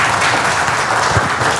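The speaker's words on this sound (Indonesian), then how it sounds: "tepuk tangan buat Anda semua sekalian ya" An audience at an Indonesian talk show about alkaline water machines breaks into steady, dense applause, a continuous wash of many hands clapping close and loud with no voices on top.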